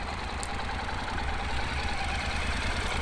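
A motorcycle engine runs steadily close by while a learner practices riding at limited speed. The drone is loud and continuous, with a low, even throb and no talking.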